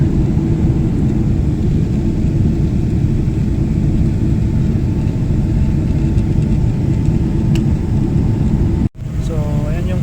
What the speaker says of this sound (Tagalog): Ikot-ikot na yung aeroplano para sa paglanding.